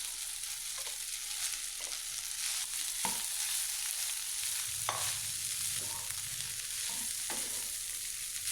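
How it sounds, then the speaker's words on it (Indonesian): White rice and chili crackle and sizzle in hot oil in a pan, left over from frying an egg, for a simple nasi goreng. Quick scrapes of a spatula recur every second or so as the rice is stirred. "dioseng-oseng sampai merata ya, diaduk-aduk sampai merata nasinya"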